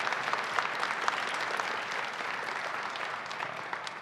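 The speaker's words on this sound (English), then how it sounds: "Let's give them a round of applause for putting together such a great event." A crowd at an outdoor Christmas tree lighting ceremony applauds the event team with steady, dense clapping that continues for several seconds at an even level.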